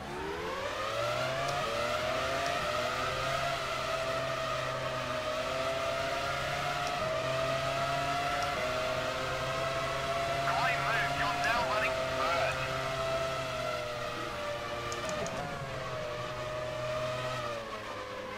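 Formula One cars launch off the start at Silverstone in the F1 Challenge 99-02 video game, a dense layered engine whine that climbs and holds steady, loud and continuous throughout.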